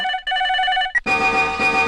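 A phone ringtone plays a repeating electronic melody, pauses briefly, then resumes louder and brighter, ringing steadily and close by.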